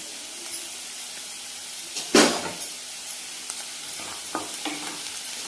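Masala sautéing in a pan with turmeric, a soft steady sizzle broken by a sharp scrape of the spoon near the start and lighter stirring clicks afterward.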